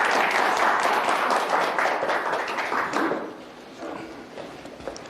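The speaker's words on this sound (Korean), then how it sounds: "모두 큰 박수로 맞이해 주시기 바랍니다" An audience at a lecture on Poeun Jeong Mong-ju gives a big round of applause to welcome the speaker, a dense wash of clapping that thins out after a few seconds, with light scattered claps at the end.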